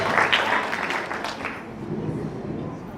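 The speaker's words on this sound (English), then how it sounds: "Let's give Rishal a round of applause" A wedding audience claps for the bride's brother, a brief burst of applause that starts strong and thins out quickly into scattered claps and room murmur.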